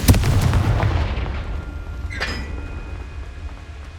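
Confringo blasting spell cast in Hogwarts Legacy: a loud, booming burst opens and slowly decays, followed by a second sharp crack midway with a thin lingering ring, no voices.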